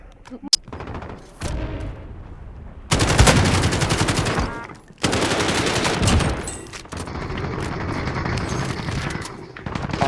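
Gunfire in Call of Duty: Warzone comes in loud, dense bursts of rapid automatic shots, separated by brief pauses and single cracks, close and dominant throughout.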